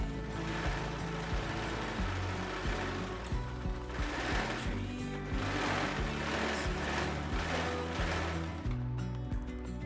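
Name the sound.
overlocker finishing the bottom edge of a bikini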